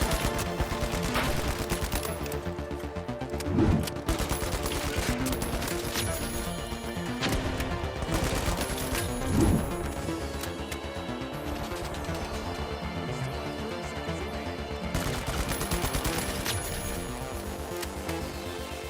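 Full-auto FCAR assault rifle fire in the shooter game The Finals, a dense, continuous crackle of rapid shots with a few louder bursts standing out, in a busy mix with no voices.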